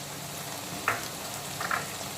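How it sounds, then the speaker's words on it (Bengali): Chopped tomato goes into onions frying in a pan, giving a steady soft sizzle with two brief louder splutters as the pieces drop in, no voices. "এখন আমি একে একে দিয়ে দেব টমেটো কুচি"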